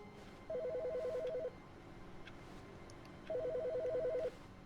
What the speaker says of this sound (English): Is there a phone ringing?